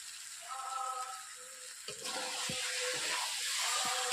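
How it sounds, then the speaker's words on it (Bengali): Jackfruit curry being sautéed in a pan, giving a soft continuous sizzle with occasional scraping and stirring knocks, fairly faint and close. "এঁচড়টাকে একটু ভালোভাবে কষিয়ে নিতে হয়।"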